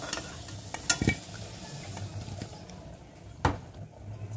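Potatoes fry quietly in oil in a pan while being stirred, a soft continuous sizzle broken by a few sharp utensil knocks and scrapes near the start and again later.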